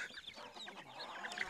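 Chickens cluck on a farm where pigs and poultry are kept, a cluster of soft overlapping clucks and chirps near the listener, steady throughout with no one talking.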